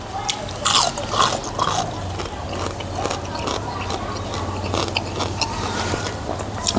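Loud, close crunching as the hard neck bone of a fried mackerel is bitten and chewed, a rapid series of crisp cracks and grinding bites with no talking.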